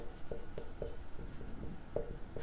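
A geometry solution for a tenth-grade problem is written out by hand, giving quiet, close scratchy strokes and short taps in an uneven rhythm over faint room noise, with no talking.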